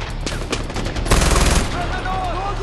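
Rapid gunfire in Far Cry 4, a few sharp shots followed by a loud sustained burst of automatic fire up close, with game ambience trailing after.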